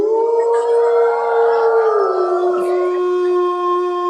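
A wolf howls in one long, steady, sustained note that bends slightly lower partway through, loud and close with no talking over it.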